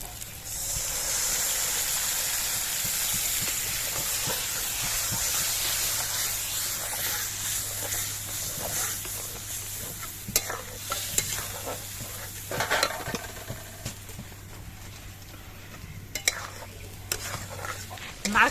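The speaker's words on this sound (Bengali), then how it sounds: "এবার এর মধ্যে দিয়ে দিচ্ছি নারকেলের দুধ" Coconut milk goes into spice paste frying in a wok, with a steady close sizzle that is stirred throughout and broken by scraping and clinking utensil sounds.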